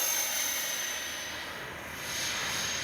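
An FMS Su-27 twin 70mm EDF RC jet, modified, flies past as a steady broad turbine-like whoosh with a faint high whine, dipping slightly midway and swelling again, heard without talk.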